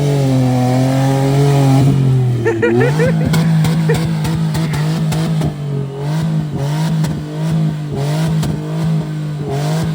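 A loud light truck engine on all-terrain tires revs and climbs in pitch, dropping briefly at a gear change into fourth and fifth before pulling steadily again, with voices faintly underneath.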